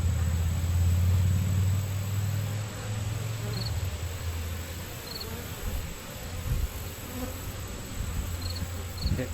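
A dense swarm of bees drones steadily at an open beehive during a frame inspection, a thick continuous buzz close by with a few brief higher whines of single bees passing the microphone.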